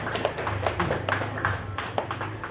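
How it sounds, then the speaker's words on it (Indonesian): An audience claps for a woman at a community health-post session on handling fainting, with several sharp, uneven claps close by, fairly steady for a couple of seconds. "Tepuk tangan dulu buat Ibu."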